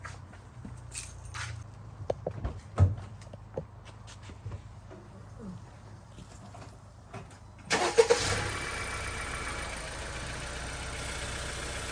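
A 2017 Honda Civic engine cranks and catches about eight seconds in, then settles into a steady idle. Before it, scattered clicks and small handling noises sound close by.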